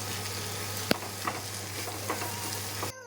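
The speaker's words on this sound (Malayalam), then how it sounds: "അപ്പോൾ നമുക്ക് ഉള്ളിയൊക്കെ സെറ്റായി വരുന്നുണ്ട്, അതിനൊന്ന് ഇളക്കി കൊടുക്കാം" Onions frying in a pan for an egg curry, with a steady sizzle and a few soft scrapes of stirring, close and alone.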